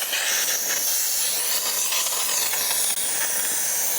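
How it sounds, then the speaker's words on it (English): Jaguar F-Type R cooling system being vacuum filled after cooling upgrades, a loud, steady, close hiss of air drawn through the fill tool, continuous with no pauses. "You see the system's going into a vacuum."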